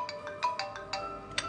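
Mobile phone ringtone sounding for an incoming call from a home phone: a quick, bright electronic melody of short repeated notes in an uneven rhythm, fairly faint and alone.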